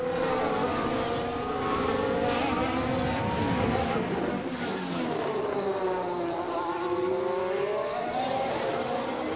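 A race car crossing the line gives a continuous loud engine drone, with pitch sweeping up and down as other cars pass close by.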